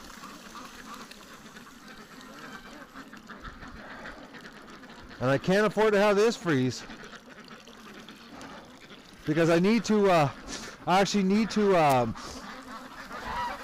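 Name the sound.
ducks quacking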